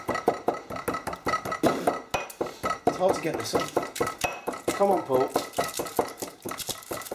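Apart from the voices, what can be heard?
pestle and mortar crushing Mentos candy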